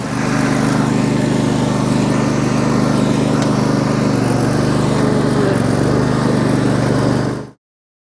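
A small lawn mower engine runs steadily after being jump-started with a portable jump starter pack, a loud, close, even drone with a constant low hum that cuts out abruptly near the end.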